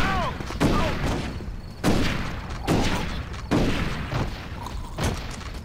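Several sharp gunshots boom out in a shootout in the Western video game Red Dead Revolver, five or six spaced blasts roughly a second apart, each with a short echoing tail, with game voices heard briefly at the start.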